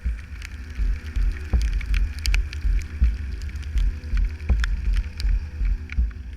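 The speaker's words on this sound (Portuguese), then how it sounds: "Aqui a chuva estava apertando um pouco, cada vez chovendo mais, o tempo não limpava." Rain and wind buffet a Suzuki Intruder 125 motorcycle ride up the Serra do Rio do Rastro mountain road, a loud rumbling low wash with scattered sharp drop hits throughout and no talk.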